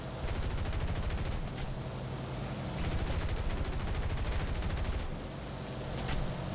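Rapid bursts of aircraft machine-gun fire from a British Sunderland flying boat in War Thunder, loud and dense over a steady engine drone, with short pauses between volleys.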